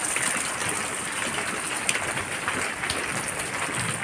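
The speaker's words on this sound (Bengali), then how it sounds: "একটু ঝমঝম করে বাইরে বৃষ্টি পড়ছে" Rain falls steadily outdoors as a continuous, even wash of hiss, fairly close and moderately loud, with no talking.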